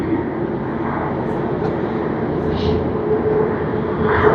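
An ANA Boeing 787-9 at Tokyo Haneda Airport on a snowy day, its jet engines making a steady broadband rumble that builds slightly toward the end, with faint talk in the background.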